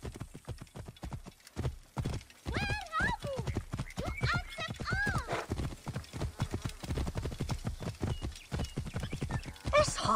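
A galloping horse in Assassin's Creed Origins, its rapid hoofbeats pounding steadily while the horse neighs and whinnies several times, with speech heard over the racing gallop.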